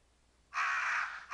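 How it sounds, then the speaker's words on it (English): Crows caw in Resident Evil, a single loud, harsh caw followed by the start of another, standing alone over a quiet background. "Crows."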